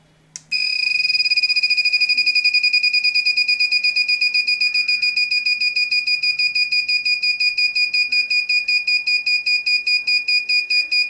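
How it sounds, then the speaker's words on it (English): A small buzzer driven by an LPC2148 ARM7 microcontroller sounds a loud, continuous electronic tone, pulsing in rapid regular beats whose pitch shifts over time, heard alone with no voices. "when we will start, it will create a sound on buzzer"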